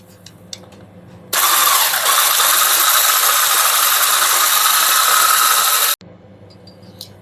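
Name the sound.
beating eggs with a mixer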